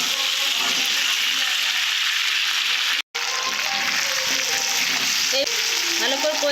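Meat with Malabar spinach fries in oil as it is stirred, a loud continuous sizzle with a brief drop to silence midway and scraping stirs toward the end.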